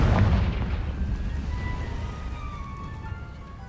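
A Confringo spell blast in the Hogwarts Legacy video game: a loud, booming explosive burst at the start that rumbles and slowly fades, with a faint ringing tail.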